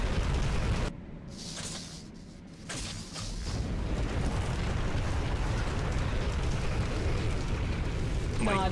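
A Nod structure blows up in the game Renegade, a loud rumbling explosion with a sharp blast near the start, then a sustained roaring, crackling burn that stays loud to the end.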